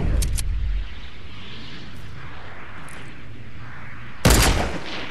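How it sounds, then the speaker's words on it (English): Sniper gunshots in a video game: a sharp blast at the very start and a louder, booming shot near the end, with a low rumbling game ambience between them. "Oh, nice shot. You almost hit me."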